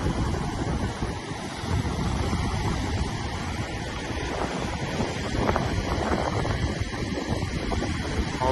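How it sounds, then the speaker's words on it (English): Tidal pool water rushes out into the ocean on the Portuguese coast like a fast river, a continuous broad roar of flowing water and surf mixed with steady wind buffeting the microphone. "All this tidal pool water is just flowing out of here like a fast-flowing river, straight out into the ocean."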